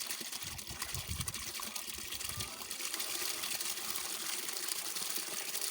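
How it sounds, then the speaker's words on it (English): Tap water runs into a container, mixing the Newcastle LaSota vaccine for laying hens. It makes a steady, fairly quiet gushing and trickling that swells slightly partway through, with no talking. "As the water is filling, it's already doing the mixing by itself."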